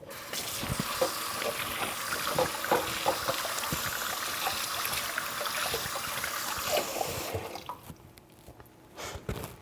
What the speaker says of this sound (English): I'm just going to wash my hands and some of this stuff off for a minute.